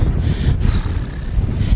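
Strong wind in an open field in Devon buffets the microphone in a steady, low rumbling roar with gusty fluctuations, no voices.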